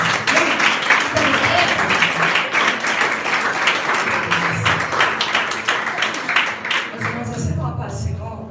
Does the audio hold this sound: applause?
yes